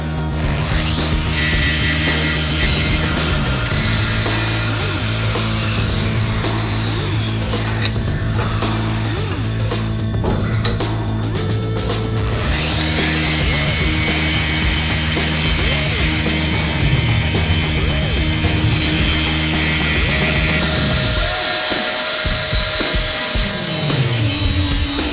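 Belt grinder making a light cleanup pass on forged Damascus knife steel, a loud continuous abrasive whine and rumble with shifting tone throughout, no talk.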